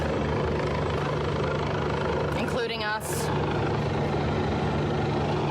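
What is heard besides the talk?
helicopters overhead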